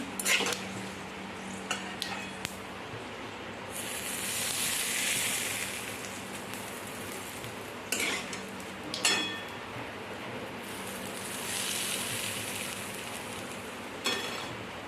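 Steady hiss of hot oil with spices crackling in a pan as tempering for sorghum-flour dhokla, swelling in bursts, broken by a few sharp clinks of a metal utensil against cookware.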